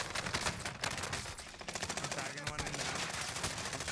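Dense automatic and rapid gunfire from a team shooter video game fills the clip, loud and continuous with overlapping bursts; faint voices sit beneath it.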